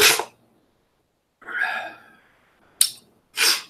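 Three or four short, sharp bursts separated by pauses, like sneezes or sneeze-like exhalations, close and fairly loud with silence between them.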